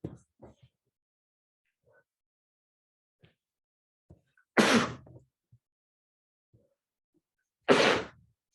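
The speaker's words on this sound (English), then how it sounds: "I need to sneeze" Two sharp, breathy sneezes bursting out a few seconds apart, with faint rustles and small knocks scattered in between.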